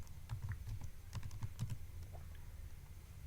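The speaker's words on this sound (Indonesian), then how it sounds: "mengetik" Quiet typing on a computer keyboard, a rapid series of soft key clicks heard close and faint, with no talk.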